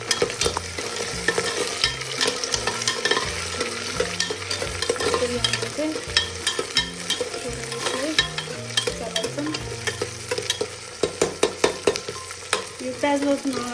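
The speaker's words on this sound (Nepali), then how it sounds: "हेर्नु के भइरहेछ, यो उफ्री उफ्री गइरहेछ पपकर्न जस्तो" Whole spices frying and popping in hot oil for veg biryani, crackling and stirring close by over a steady sizzle, with sharper popping bursts near the end and no talk.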